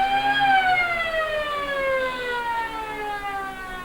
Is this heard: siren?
yes